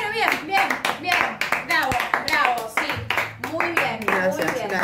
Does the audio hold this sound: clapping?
yes